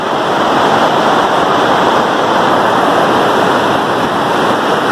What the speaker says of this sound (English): The waterfall's coming down.